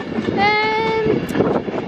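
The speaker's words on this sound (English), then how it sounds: "As the 390-156 comes into the platform" Class 390 unit 390-156 pulling into a platform at Crewe, a steady rumbling roll with a bright sustained tonal whine from the traction equipment, close and fairly loud, with faint talk or platform noise underneath.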